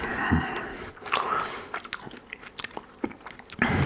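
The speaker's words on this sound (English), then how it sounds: "chewing gum can be a" Gum is chewed close to the microphone in a soft-spoken ASMR setting, giving irregular wet smacks and small crunchy clicks with quiet pauses between them.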